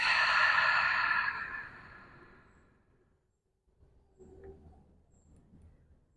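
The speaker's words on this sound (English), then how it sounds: "And exhale through the mouth." A long, deep exhale through the mouth during a yoga breathing cue, loud and breathy at first and then fading to silence over about three seconds, followed by faint low rustling.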